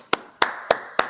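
Four sharp, spaced hand claps ring out one after another at a community gathering, fairly quiet and slightly reverberant, with no voices.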